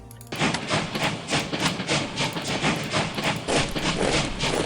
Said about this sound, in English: Okay, the train is still here.